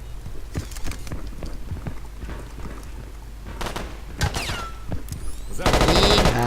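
Gunfire in the video game Battlefield 2142 comes as rapid automatic bursts and scattered shots over constant background rumble, with a denser, louder burst near the end and some talking mixed in.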